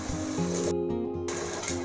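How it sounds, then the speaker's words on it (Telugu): Ginger garlic paste frying in a pan while being stirred for gongura mutton, a steady close sizzle with a brief quieter gap midway and a light scrape near the end. "ఈ అల్లం వెల్లుల్లి పేస్ట్ అంతా కొంచెం ఫ్రై అయ్యేంత వరకు ఒక 2 నిమిషాలు ఇలా కలిపి"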